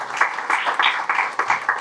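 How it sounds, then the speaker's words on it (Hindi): An audience claps at a book launch ceremony, a short burst of steady, moderately loud applause from a crowd with no other sounds over it. "तो बहुत सारी तालियाँ होनी चाहिए"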